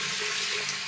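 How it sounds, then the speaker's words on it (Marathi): Water poured into a pressure cooker holding horse gram, a brief, steady splashing gush heard alone. "पाणी टाकून घेऊ"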